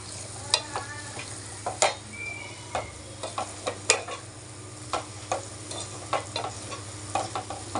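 Pepper masala stirred and frying in a pan: a steady sizzle with repeated sharp scrapes and clicks of a spoon against the pan, close and fairly quiet, with no talking.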